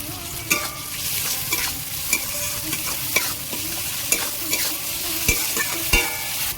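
Chopped tomato with salt frying in a pan, a steady close sizzle broken by regular clinks and scrapes of a spatula stirring, alone with no voices.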